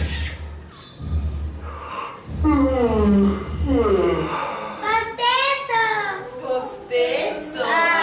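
Children imitate a yawn with a long drawn-out breathy vocal sound, loud and close, repeated over several seconds with gasping breaths and voiced sighs.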